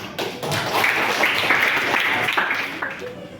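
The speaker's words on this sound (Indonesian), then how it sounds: "Terus ya tepuk tangan" Crowd of teachers clapping hands in a Sundanese classroom session, a steady dense patter of applause lasting throughout, with voices mixed in under the clapping.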